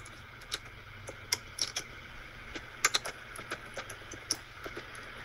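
Scattered key clicks from typing on a computer keyboard while entering optimization constraints and variables, light irregular taps over a steady low hum.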